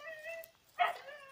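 A dog gives a single short yip or whimper, faint and somewhat distant, in an otherwise quiet moment.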